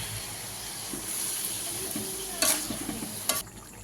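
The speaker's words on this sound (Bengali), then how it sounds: "এবার আমি আস্তে আস্তে এইভাবে নেড়ে নেড়ে কষবো" Spices with ground chili and black pepper powder being slowly stir-fried in a pan, a steady close sizzle with soft scraping stirs and a couple of sharper clanks of the spoon near the end.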